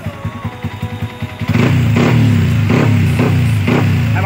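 A Yamaha Sniper V2 motorcycle with a 59mm bore, remap and racing cams idles with a chugging putter, then is revved hard into a loud sustained roar with rhythmic surges, close by.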